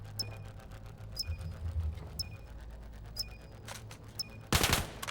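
Gunfire in the VAIL VR shooter during a grand finals esports match: a series of sharp, regularly spaced shots ending in a louder, dense burst, heard over low background hum.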